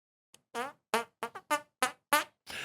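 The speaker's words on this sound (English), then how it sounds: "I got the fart. That's a good one." Fart sound effect played as a string of seven short, buzzy, tonal bursts with quick pitch sweeps, spaced unevenly over a couple of seconds, clear and loud with no talking.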